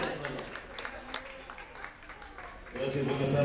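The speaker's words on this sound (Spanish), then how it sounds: "vamos a darle un bonito aplauso" A restaurant-bar crowd applauds a performer with scattered, moderate clapping that grows a little fuller near the end, heard under a speaking voice.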